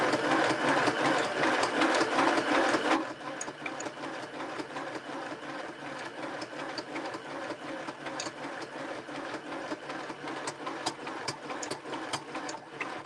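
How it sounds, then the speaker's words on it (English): A sewing machine stitches a fabric junk journal cover made from a bread box, running steadily and close with a fast even mechanical whir that drops to a lighter pace after a few seconds. "I'm going to put the needle down into the book, and then I'm going to lift the presser foot"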